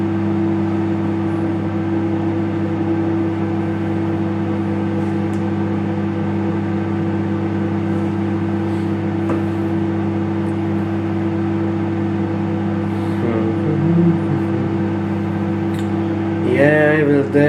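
Microwave oven running with a can of Pepsi inside, a steady mechanical hum and whir droning loud and constant, with faint crackles and a brief fizzing burst near the end.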